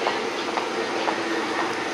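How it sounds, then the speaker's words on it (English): A City Loop train departing in Richmond, a steady loud rumble and hiss of rolling wheels with faint periodic clacks close by, no talk. "here's the City Loop train"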